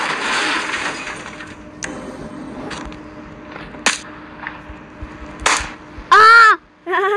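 A toy gun fires a handful of sharp, isolated cracks spaced irregularly through a child's play scene, with brief squeaky toy tones near the end and no clear talking.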